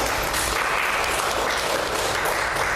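Applause fills a Women's Day celebration event, a dense, even wash of many hands clapping at once, steady and fairly loud throughout the short stretch with no talk over it.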